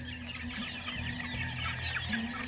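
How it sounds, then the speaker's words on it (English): A group of six-week-old healthy chicks cluck and chirp continuously at close range, with overlapping soft calls over a steady background hum. "These are actually healthy chicks. October born, so this is around 6 weeks old."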